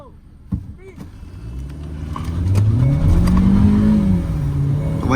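A Hyundai Creta Turbo petrol and a Mahindra XUV700 petrol launch side by side in a drag race, with engines swelling from a low idle into a loud, rising acceleration roar that holds steady near the end, with voices talking over it.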